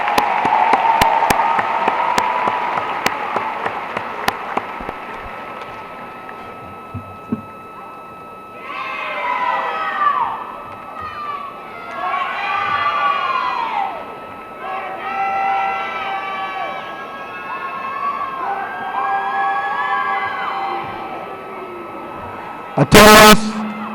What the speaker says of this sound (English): Let us applaud this golden class as they take their seats.